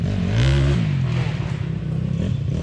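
A YCF 190 pit bike engine revs loudly up close, a rough low growl rising and settling, with a rattling mechanical edge and no talk.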